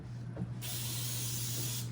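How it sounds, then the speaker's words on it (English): A can of cooking spray hisses onto a baking pan in a home kitchen during Christmas cookie baking, one steady close spray lasting over a second above a low background hum. "You wanna spray the pan while I'm doing this?"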